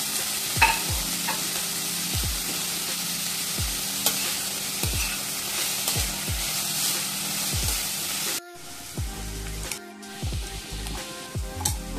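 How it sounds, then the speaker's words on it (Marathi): Onions for a bharangi bhaji sautéing in a pan, a continuous close sizzle broken by repeated scraping and knocking strokes of a spoon, with a sudden drop to quieter stirring near the end. "आता हा पूर्ण परतून व्यवस्थित घेऊया"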